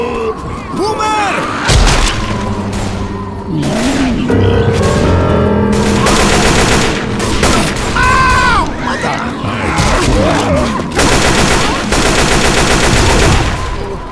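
Gunfire in the zombie shooter Left 4 Dead 2: loud bursts of rapid automatic fire and single shots among booms and crashes, with game characters shouting over the shooting.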